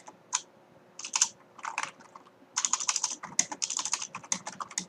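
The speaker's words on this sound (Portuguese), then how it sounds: "professor, tá digitando mal hoje" Typing on a computer keyboard, with quick bursts of crisp, close key clicks split by short pauses, some fast runs and some single taps, fairly quiet and with no voices.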